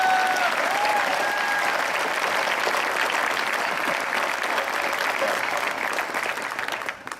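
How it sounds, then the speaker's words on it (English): A large audience at a 2017 St. John Bosco high school graduation ceremony breaks into sustained, dense applause, steady and loud for several seconds, with a few faint whistles early on, before thinning slightly at the end. "That's where we clap."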